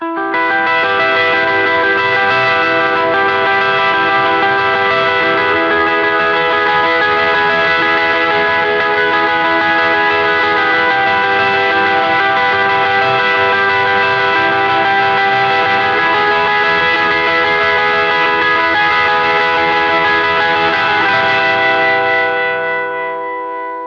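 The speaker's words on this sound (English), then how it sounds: "my preferred way to play the outro for the song sounds like this." An electric guitar plays a song outro through whammy, delay and blues pedals, a loud, dense, shimmering sustained tone with echoing repeats that holds steady for the whole stretch before tapering at the end.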